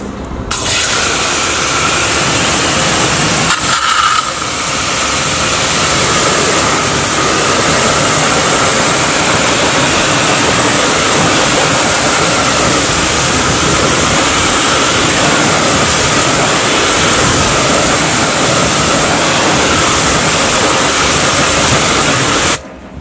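A pressure washer spray rinses a car wheel after cleaning, a loud, continuous hissing roar of water that holds steady for over twenty seconds, with a brief change in tone early on.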